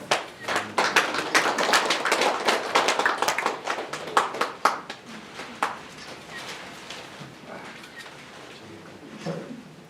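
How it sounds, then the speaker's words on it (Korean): Audience applause at an award ceremony for outstanding public officials in Nonsan, South Korea, a burst of many hands clapping loudly that thins out and fades over a few seconds. "축하의 박수를 부탁합니다"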